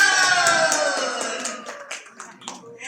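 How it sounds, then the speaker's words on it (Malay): Clapping from a gathered audience at a women's Quran completion ceremony fades in under a lingering musical tone, growing sparse and uneven before trailing off. "tepukan semua untuk Kak Hafsa."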